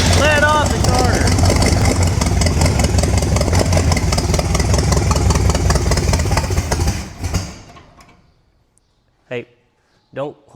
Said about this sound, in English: don't hold the starter once it's started